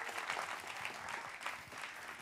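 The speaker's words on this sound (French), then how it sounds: "applaudissez si vous avez envie d'applaudir" A crowd at a lively live comedy and music show applauds, with thick, close clapping that pulses slightly in rhythm throughout.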